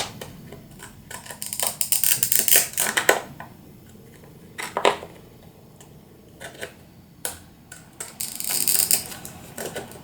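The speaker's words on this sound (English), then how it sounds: "with a decorative edge scissors, I'm going to go around the edge" Decorative edge scissors snip around the edge of card paper for a cardmaking project, giving short, crisp clicking cuts in bursts separated by brief pauses.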